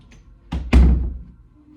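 A cat pushes open a door indoors, making two soft, dull thumps in quick succession, the second louder and heavier, close by in a quiet room.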